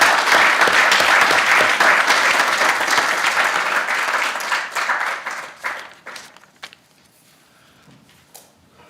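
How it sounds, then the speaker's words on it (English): An audience at a municipal council inaugural meeting applauds newly sworn-in councillors: dense, steady clapping for several seconds that thins into scattered claps and fades to near silence. "We can now give a hand of applause to the councillors."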